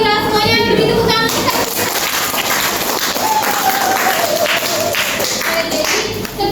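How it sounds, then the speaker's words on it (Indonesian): A classroom full of people clapping steadily, loud and close, with children's voices and chatter mixed into the applause. "Terima kasih Safira, semuanya beri tepuk tangan."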